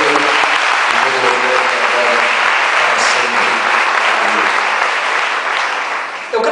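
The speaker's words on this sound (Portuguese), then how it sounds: "Dê um forte aplauso mais uma vez a Ele" Loud, sustained applause from a church congregation, a thick continuous roar of many hands clapping that holds steady and tapers slightly near the end, with faint voices mixed underneath.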